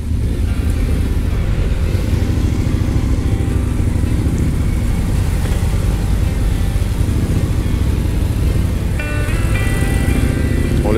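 Several motorcycles rumble together as a group ride sets off for the Madone des Motards 2022 outing, a dense, loud, steady low engine drone throughout with a higher revving note rising near the end.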